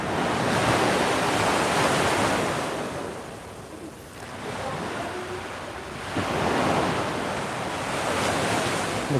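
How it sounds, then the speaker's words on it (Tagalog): Heavy surf from strong ocean waves crashes in two big swells, a loud hissing roar that fades between breakers, mixed with wind noise and no speech. "Oh, lakas ng alon dito mga kabuka."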